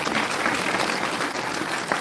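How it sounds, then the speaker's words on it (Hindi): An audience claps for the guru at a live Ram Katha gathering, dense sustained applause from many hands, loud and close with no speech. "आप सब गुरु के नाम पर एक बार ताली बजा दिया जाए"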